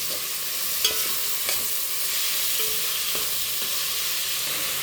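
Tomatoes and other ingredients sauté in a pan as a steady loud sizzle, with a few sharp scrapes from a spoon stirring at intervals.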